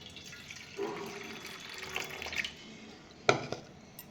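Dal lentils are rinsed under running water in a home kitchen: a soft, steady tap flow with faint splashes and a sharper splash and clatter near the end, fairly quiet and close.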